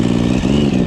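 A 1050cc Yamaha Raptor ATV engine in first gear, attempting a donut, drones loud and close with a steady, throaty mid-range roar and slight pulsing revs, running alone with no talk over it.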